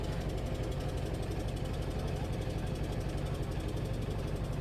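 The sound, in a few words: trawler boat engine running on river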